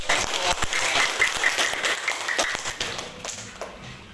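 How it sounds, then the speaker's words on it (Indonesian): Crowd applause for a performance at a school class, scattered claps, fairly steady and dense, fading slightly toward the end. "Tepuk tangan dulu untuk penampilan."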